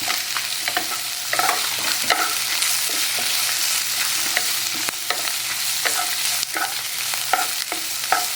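Onions sautéing in a pan with ginger and garlic for a chutney, a steady loud sizzle broken by repeated sharp scrapes and clinks of a spoon stirring, close up with no talking.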